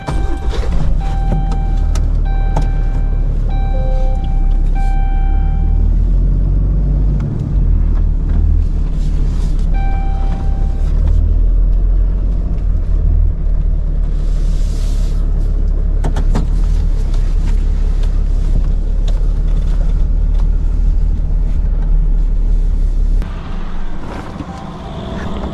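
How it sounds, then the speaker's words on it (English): A truck is maneuvered and turned around at a pool construction site, its engine rumbling loudly and steadily with a few reverse-alarm beeps and clunks early on, then settling lower near the end. "let me turn this truck around, that way we can load up all the material"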